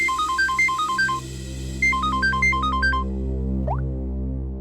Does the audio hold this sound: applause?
no